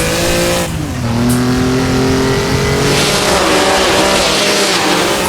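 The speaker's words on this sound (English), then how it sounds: "So get it down to 1st gear and slide it on through Arenberg" Maserati 250F engine in a sim racing game, revving and dropping through the gears to first with a sliding, tire-scrabbling note, loud and continuous with no talk.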